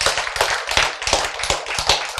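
Rhythmic, fairly loud hand clapping from an audience at a health lecture, many hands striking together in a quick, even beat with no talk over it.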